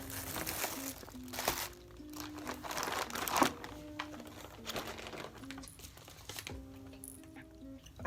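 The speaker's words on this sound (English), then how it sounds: "taking my logo stickers and just putting them on the package to seal them" Logo stickers are peeled and pressed onto a shipping package to seal it, giving close crinkling plastic and paper rustles with soft taps and handling noises, no speech.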